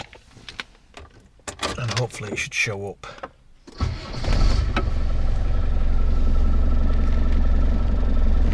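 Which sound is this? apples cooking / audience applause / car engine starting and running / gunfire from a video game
car engine starting and running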